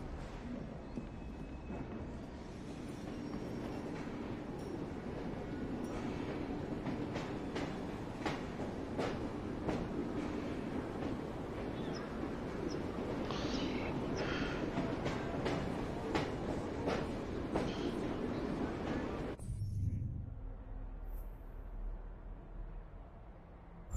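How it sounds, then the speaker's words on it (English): A steam-era train in Assassin's Creed Syndicate rumbles steadily with dense clattering and a rolling low roar, loud and continuous for most of the clip before cutting off abruptly near the end. "Wish I could make the train go faster."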